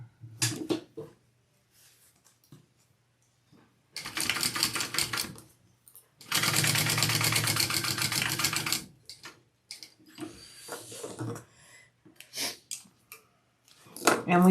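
A sewing machine stitches handbag pieces along their short edges, running in two sustained bursts of steady, rapid mechanical whirring, close and clear, with quieter handling sounds and short pauses between them.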